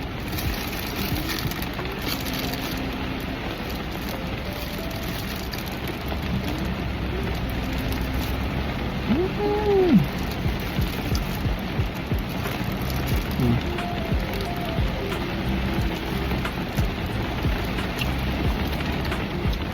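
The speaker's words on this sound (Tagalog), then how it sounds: "Ang lakas ng ulan, ang lamig." Heavy rain pours steadily and loudly throughout, a dense constant wash of drops with no talking.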